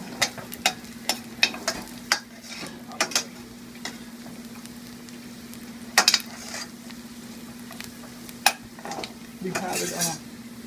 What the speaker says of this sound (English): once the chilies are frying in the oil